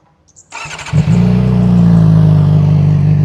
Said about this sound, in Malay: So kita dengar bunyi dia idling dulu.